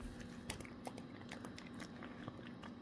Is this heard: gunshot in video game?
no